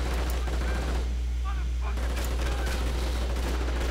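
Dense video-game gunfire rattles continuously in a strategy battle, a near-constant barrage of shots and bursts with a brief lull, while a commentator talks over it.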